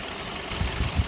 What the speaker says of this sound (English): See now, engine is shaking.